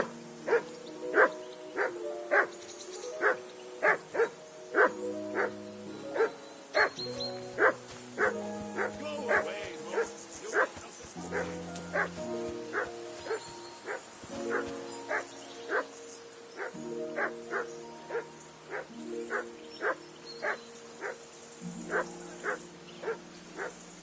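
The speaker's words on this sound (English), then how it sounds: "Be quiet, you flea-bitten hound!" A dog in Kingdom Come: Deliverance II barks loudly and repeatedly in steady, rhythmic volleys that last the whole stretch, close and clear over a quiet background with some faint talk.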